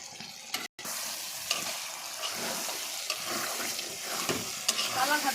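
Potato pieces dropped one at a time into a hot pan of frying spices and stirred, steady close sizzling with scraping and clinking of the spoon, a short break near the start.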